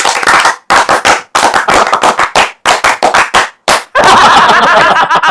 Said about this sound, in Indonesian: mungkin pembukaannya kita harus tepuk Pramuka